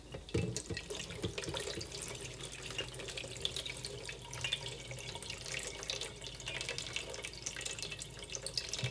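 Steady running water from a tap, a continuous hiss and splash with no talking, fairly close and even throughout.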